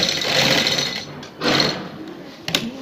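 Sewing machine stitching a border along a kameez side slit, running in two loud, steady bursts with a pause between them and a brief clatter near the end.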